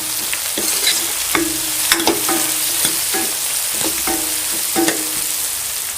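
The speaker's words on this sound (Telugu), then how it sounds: "తర్వాత 2 రెబ్బల కరివేపాకు, 1/2 టీ స్పూన్ పసుపు వేసుకొని ఒకసారి కలుపుకోవాలి." Curry leaves and turmeric stirred in a hot oily pan, a spoon scraping the pan in quick irregular strokes over a constant crackling sizzle, close and fairly loud.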